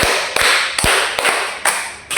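Pupils in a classroom clap together in a counted routine, giving a run of sharp, loud claps in steady rhythm, close by, with no talk over them.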